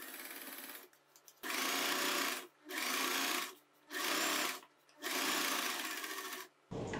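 Sewing machine stitching along the side slit of a churidar. Four or five loud, close bursts of rapid needle chatter, separated by brief pauses, with a final short run at the end.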